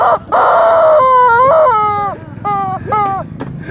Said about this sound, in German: der Gockel will heim